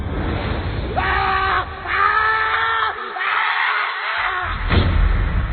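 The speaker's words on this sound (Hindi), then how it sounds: "कुछ देर बाद लेखक की एक जोर से चीख सुनाई देती है।" A loud male scream in a Hindi animated horror story, long and strained, rising in a few bursts over a noisy crowd-like background.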